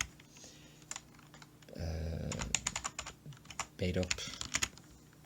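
Typing on a computer keyboard while entering employee records into a Microsoft Access table: quick uneven clusters of close key clicks, with a person speaking briefly partway through.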